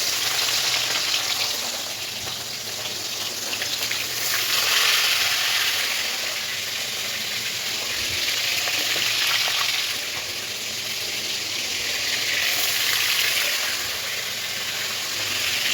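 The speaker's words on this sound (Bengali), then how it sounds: "চিকেনটা এবার ভেজে নেব" Chicken pieces coated in turmeric and salt fry in hot oil for biryani, giving a loud, continuous close-up sizzle and hiss that swells and eases slightly, with no speech.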